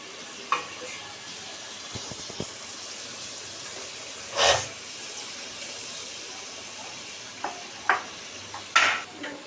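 A mutton biryani pot sizzles quietly as potatoes are added, with a few sharp clatters and bursts of stirring breaking through the low, steady frying hiss.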